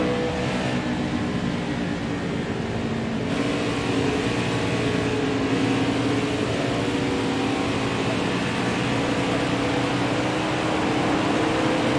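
A NASCAR race car engine drones in the video game Nascar Heat 4 during a lap at Auto Club Speedway, a loud, constant high-pitched roar with steady harmonics and little variation throughout.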